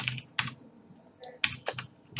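Someone types on a computer keyboard in short, quiet clusters of clicks separated by brief pauses, close by and with no voice.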